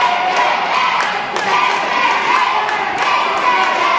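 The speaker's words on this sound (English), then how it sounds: "The crowd chanting AKA" Wrestling crowd at an Aces High show roars in a dense, continuous wash of voices, with rhythmic chant-like pulses and sharp thuds from the ring cutting through at intervals.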